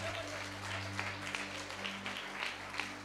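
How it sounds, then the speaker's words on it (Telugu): An audience at a church sermon claps in a continuous burst of applause of moderate loudness, with a low hum under it. "గట్టిగా చప్పట్లు కొట్టాలా, కొట్టాలా"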